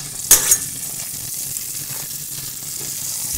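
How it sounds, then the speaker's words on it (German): A small piece of butter hitting a hot frying pan, a sharp crackle on contact followed by a steady, close hiss of sizzling fat that continues evenly with no talk. "Da geben wir jetzt ein kleines Stück Butter hinein."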